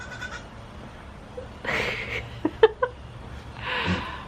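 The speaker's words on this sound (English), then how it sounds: "Yeah, more baby goats." Baby goats bleat a few times, short wavering cries close by, with quiet gaps between them and no talking.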